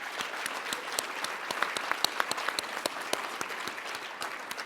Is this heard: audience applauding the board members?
yes